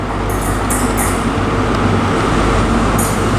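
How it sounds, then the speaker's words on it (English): ScotRail train from Glasgow Queen Street arriving at Perth station, a loud, continuous rumble of wheels and engine close by, with a few short high squeals from the wheels or brakes cutting through. "approaching in now is the 1341 ScotRail service from Glasgow Queen Street to Aberdeen"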